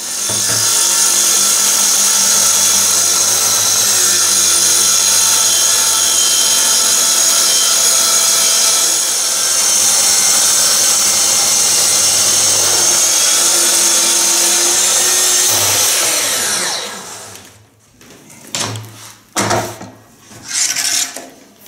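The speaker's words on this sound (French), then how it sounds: "Nous allons passer aux coupes pour vous montrer avec quelle facilité on coupe l'aluminium." A power saw slices through an aluminium plate for a chassis, a loud, steady high-pitched whine lasting about sixteen seconds before the cut ends and the motor spins down with a few short bursts.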